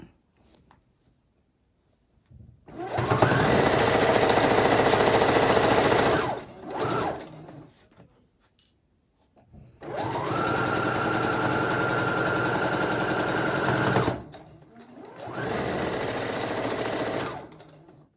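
Home sewing machine stitching a cloth face mask, running in three long steady bursts separated by brief pauses, with a short stop mid-run and a pitch rise as speed picks up; close and alone, no talk.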